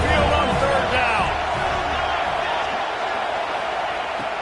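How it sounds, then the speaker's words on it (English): Stadium crowd noise at Saban Field in the College Football 26 video game, a loud continuous roar of the home crowd on third down, with cheering swelling early and then holding steady. "The Tide crowd rolling noise down on the Saban field on 3rd down."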